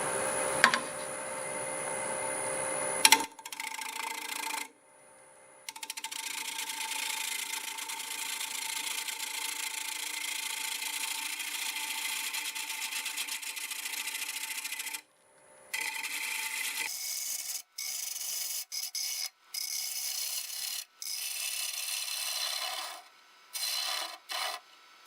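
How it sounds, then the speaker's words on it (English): A half-inch bowl gouge scrapes steadily against a wooden bowl, turned from a board on a lathe spinning at about 820 RPM, in long continuous cuts broken by brief pauses near the end, with no talking. "So I've got a 1/2 inch bowl gouge sharpened up, and I think we're turning about whatever we want, just about 820 RPM."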